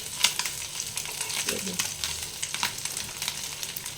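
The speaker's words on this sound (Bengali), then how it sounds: "খুব ভালোভাবে দুটো পিঠেই ভেজে নিতে হবে" Small fish frying in hot oil in a pan, a close steady sizzle with scattered pops and crackles and an occasional soft stir or turn.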